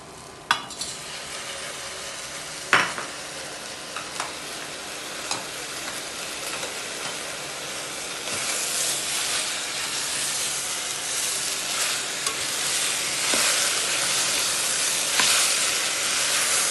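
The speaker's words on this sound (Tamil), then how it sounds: "நல்லா வதக்குங்க." Tomatoes and mint sauté in a hot pan for tomato soup, giving a continuous close sizzle with a rising hiss and occasional sharp scrapes and taps of stirring.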